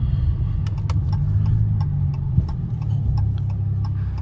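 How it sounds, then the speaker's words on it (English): A Dodge Challenger on aftermarket reproduction wheels rolls over a bumpy road, with a steady low rumble of tires and engine inside the cabin and regular sharp knocks and thumps from the bumps. "I'm going to be talking about the ride quality and the comfort as I'm going down these bumpy roads"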